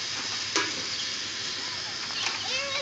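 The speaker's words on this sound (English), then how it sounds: "He's catching water in the bucket." Water splashes and pours steadily into a bucket at a car wash, with a couple of sharper splashes, while voices are faintly audible in the background.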